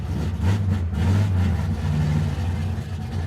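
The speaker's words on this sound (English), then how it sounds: "who the hell wants to listen to the radio when you got this thing and the sound of this exhaust?" A 1969 Chevy Camaro engine rumbles through its exhaust with a deep, throaty idle that swells briefly under light throttle and then settles back, heard close and steady.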